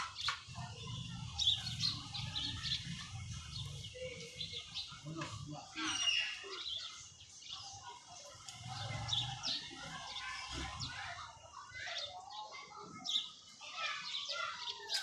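Pigeons, including pet pigeons, on a rooftop, giving faint, scattered chirps and coos with some wing flutter over an open-air background, while someone talks now and then.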